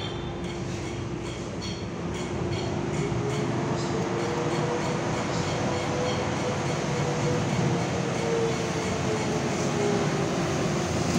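The ALS 083 intercity bus pulls into the Bogor depot, its big engine giving a loud, continuous rumble and drone that swells slightly as it nears, with no talking over it.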